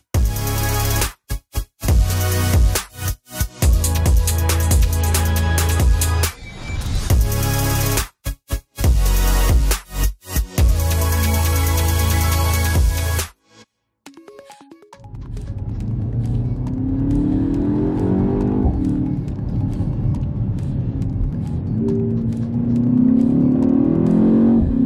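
A BMW X2 M35i xDrive on the road in Lisbon, its engine revving hard through several sharp bursts with abrupt cuts between them, then settling into a steadier, quieter driving drone with rising acceleration.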